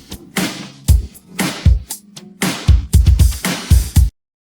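An isolated drum track from a song plays a punchy groove of deep kicks and sharp, cracking snare hits, then stops abruptly.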